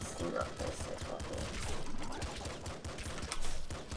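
Rapid bursts of assault-rifle gunfire in the top-down shooter Nuclear Throne, dense overlapping game shots and explosions, with a player's voice talking over them.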